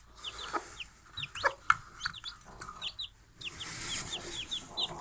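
A broody hen clucks softly while newly hatched chicks peep in high, rapid chirps close by, the calls coming in irregular bursts through a quiet coop.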